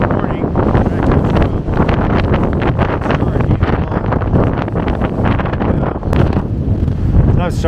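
Strong wind buffets the microphone on an exposed mountain trail along the Pacific Crest Trail between Tehachapi and Walker Pass, a loud continuous roar with gusting surges throughout and no clear speech.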